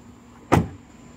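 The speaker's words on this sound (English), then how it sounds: "This Town and Country is equipped with power sliding rear doors" A power sliding rear door on a 2016 Chrysler Town & Country Touring minivan gives a single brief thud-like closing sound, close and moderately loud, standing alone against quiet background.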